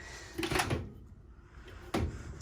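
A drawer below the oven in a 2019 Jayco Eagle 284BHOK travel trailer slides open with a couple of short rumbling scrapes and a soft knock, close and fairly quiet, with no voices.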